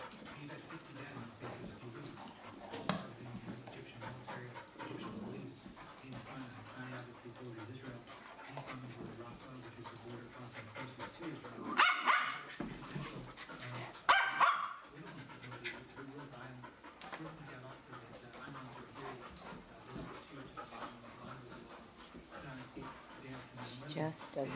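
Dogs playing tug with an object, panting, whimpering, yipping and giving short growls and barks, with a couple of louder bursts midway, under a person talking over most of it.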